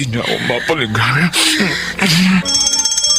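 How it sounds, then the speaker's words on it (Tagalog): A motel fire alarm breaks in with a bright, rapid ringing at the end, after overlapping dramatic voices in a radio drama. "Fire alarm nitong motel yun!"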